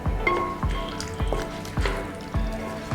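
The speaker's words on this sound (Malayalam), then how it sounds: "നമുക്കിനി ഇതിലേക്ക് ഒരു 3 പച്ചമുളക് കൂടെ കീറിയത് ചേർത്ത് കൊടുക്കാം" Slit green chilies dropped into simmering Kerala-style beef curry, with a string of wet squishy plops and drips landing in a regular rhythm over a low bubbling background.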